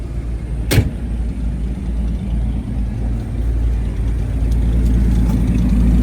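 A 1965 AMC Rambler Marlin with an electric fuel pump and a MagnaFlow dual-tip muffler cranks briefly and catches. It then settles into a steady, close, low rumbling idle that holds for several seconds.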